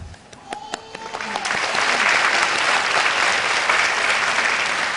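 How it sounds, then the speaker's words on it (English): Graduates get applause that starts with a few scattered claps and swells into loud, sustained clapping from a large audience at a school graduation ceremony. Faint voices are mixed in. "Let's clap our hands again for the graduates"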